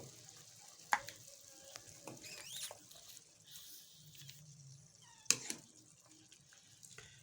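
Carrot murabba syrup bubbles faintly in a pot, a soft, quiet simmering patter broken by a couple of sharp clicks.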